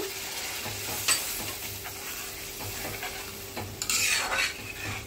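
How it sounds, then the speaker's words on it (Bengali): Mustard paste fish gravy for a Mukundi fish curry sizzles steadily in a pan while a spoon scrapes and stirs through it, with a few sharper clinks against the metal and no talking. "মশলা দেওয়া জলটা দিয়ে আমি ভালো করে নাড়াচাড়া করে কষিয়ে নিয়েছি।"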